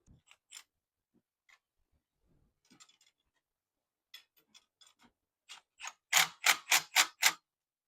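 A nut being cinched down with a ratchet on an LSSimple accessory bracket during an LS swap into an Impala SS: scattered light clicks, then a close, loud run of five or six rapid ratchet strokes.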